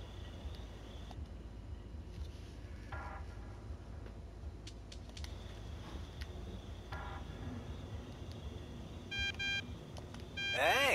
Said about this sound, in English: Oh, yeah, my cell phone.